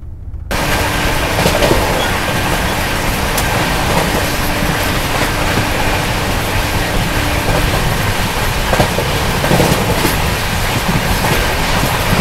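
The Dakshin Express train rolls steadily along the rails at about 120 km/h near Kosi Kalan, a continuous loud rumble with faint rhythmic clatter throughout, no voices.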